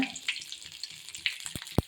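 Curry leaves sizzle in hot coconut oil after mustard seeds have popped, giving a steady close frying hiss with a couple of sharp pops near the end.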